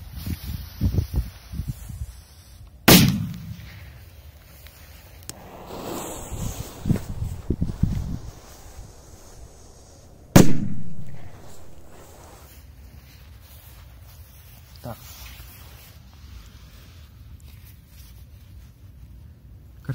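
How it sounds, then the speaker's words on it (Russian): Zeus P2000 firecrackers set off outdoors: two sharp, loud bangs about seven seconds apart, each cutting through a steady wind-and-rustle background. "Давайте взорвем еще несколько петард."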